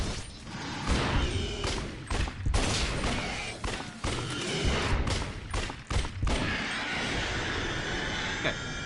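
Rapid gunfire from a shooting video game, dense bursts of shots crackling continuously across the whole stretch, loud and close, with a sustained rumbling mechanical din underneath and no talking.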